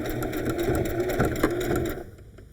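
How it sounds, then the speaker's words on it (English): A sewing machine zigzag-stitches slowly through four thick layers of fabric, its needle thumping in a quick steady rhythm before stopping abruptly near the end. "And you're sewing through 4 layers of fabric right there."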